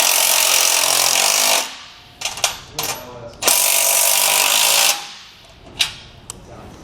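Power tool tightening carriage bolts on the tongue bracket of a heavy boat trailer, two long whirring runs broken by short bursts and clicks, loud and close.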